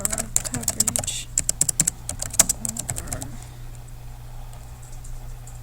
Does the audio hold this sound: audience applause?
no